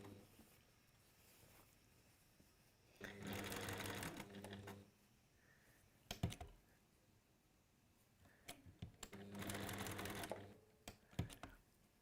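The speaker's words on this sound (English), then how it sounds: "I'm just going to stitch round there and round there" A sewing machine stitches around fabric pieces in two short bursts of rapid, rattling whirring, with quiet handling clicks between them, close and alone.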